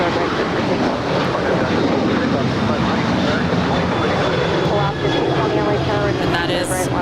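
An American Airlines jet takes off from runway 25 right at LAX, a steady broad roar of engines and rushing air that stays loud and constant throughout, with wind buffeting the microphone.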